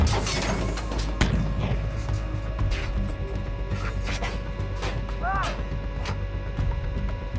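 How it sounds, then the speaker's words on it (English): An M1A1 tank in a video game fires HEAT rounds, with sharp booming shots and rumbling impacts among battle noise. A voice talks over them. "Load the heat rounds up. And firing now."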